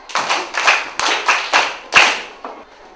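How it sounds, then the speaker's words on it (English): Children in a classroom clap in short, distinct bursts, roughly six rhythmic waves of claps close by, loud and alone with no talk over them, fading at the end. "Clap for them"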